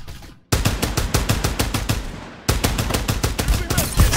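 Rapid automatic gunfire in the shooter game Farlight 84, dense bursts of shots after a brief quiet start, a short lull near the middle, then sustained close, loud firing again.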